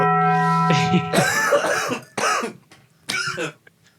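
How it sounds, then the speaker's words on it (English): A tone fades out, then someone coughs in several harsh bursts with short gaps between them, close and loud. "coughing because he's smoking"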